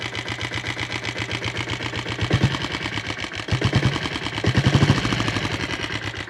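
A Royal Enfield diesel Bullet motorcycle's stock single-cylinder engine, just started with the decompressor, runs at a steady idle. Its loud, rapid, raw mechanical knocking beats evenly throughout, with a few brief swells of revving.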